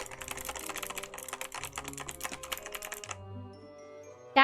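Mechanical keyboard with stiff, resistant keys being typed on, a dense run of close clicky keystrokes for about three seconds, then stopping into quiet room tone.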